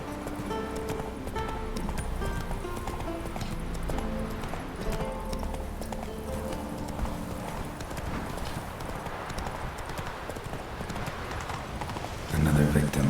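Geralt's horse Roach from The Witcher 3 trots along with a steady clip-clop of hooves, layered over game music and ambience, with a louder burst near the end.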